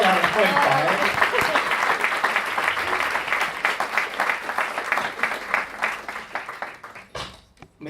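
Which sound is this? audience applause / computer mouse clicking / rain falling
audience applause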